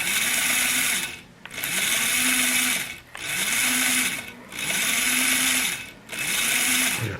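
Electric motor of a repaired Bowser Penn Line 2-10-0 Decapod model steam locomotive whirring in five close bursts, each rising and settling with brief pauses between.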